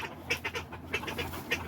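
Several duck quacks in quick succession at a backyard farm, moderately close and fairly loud, with bursts spread across the moment and a steady low background hum beneath them.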